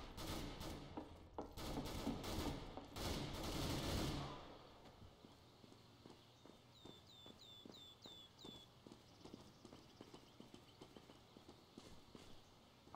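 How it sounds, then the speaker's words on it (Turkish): Footsteps sound in the Counter-Strike: Global Offensive video game as a run of quiet, regular thuds after a loud burst of gunfire fades, with faint high chirps above them. "Ayak sesleri var."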